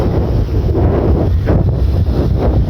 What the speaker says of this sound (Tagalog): Kaya, lakas ng hangin.